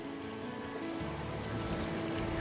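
Waves lap steadily on the shore of Pangong lake, a continuous close wash of water with a soft rumble and no voices.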